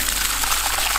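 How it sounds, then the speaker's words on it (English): Water falling from an intake pipe into a drum on a non-electric pressured pump drawing from a deep river, a steady hissing splash that stays constant and fairly close. "I can hear the water dropping from the intake water pipe"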